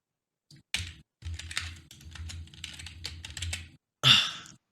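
Keys clatter on a computer keyboard as a password is typed in a quick, uneven burst lasting a few seconds, close and clear, followed by a brief louder sound at the end.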